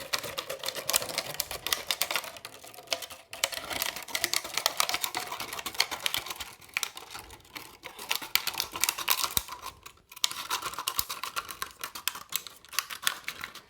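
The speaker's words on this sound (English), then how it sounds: "So it's quite loud, so let me just cut this for a second." Scissors snipping a plastic water bottle into a spiral, a close, loud run of rapid crunchy clicks and crinkles with brief pauses between cuts, no talking.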